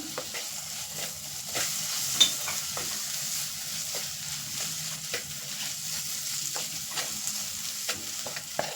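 A carrot pickle fries in a pan while a spoon stirs it, giving repeated scraping strokes over a steady, close sizzle, with no talking.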